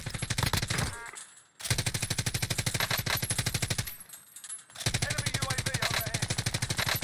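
A PKM machine gun fires in Call of Duty Warzone: loud, rapid sustained bursts of evenly spaced shots, three long strings broken by short pauses, close up and dominant.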